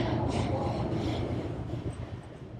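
Passenger train rumbling at the Amtrak Auto Train station, a steady low, broadband rail noise heard up close, with no talk over it.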